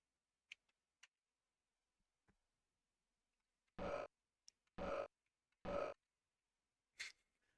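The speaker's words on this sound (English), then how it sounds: "why do they have to do like a burp like siren sound?" Three short, low burp-like electronic siren blasts from the Amiga game Zeal Wheel sound in a row, evenly spaced, with faint clicks and ticks around them in an otherwise quiet space.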